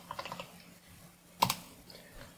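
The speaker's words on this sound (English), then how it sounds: "so I'll just type that in now" Quiet keystrokes on a computer keyboard tap out a short burst of typing, followed by a pause and then a sharper double click, close and faint.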